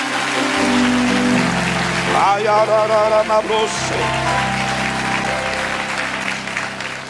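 A church congregation claps and cheers loudly and continuously during a sermon, with music and voices mixed into the dense, sustained applause.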